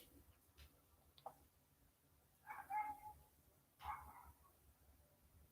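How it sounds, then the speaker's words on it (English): A Great Pyrenees guard dog barks in two short bursts some distance away, faint against quiet room tone, with no one speaking. "Is the dog bark too loud?"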